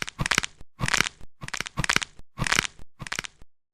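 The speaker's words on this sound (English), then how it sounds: "someone will crack their knuckles" Knuckles cracking in a rapid series of sharp crunchy pops, grouped in five or six dense bursts separated by brief silences, close and fairly loud with no talking.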